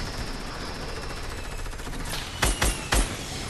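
Gunfire in Fortnite: three sharp, close shots in quick succession near the end, cutting through a steady hum of game background noise.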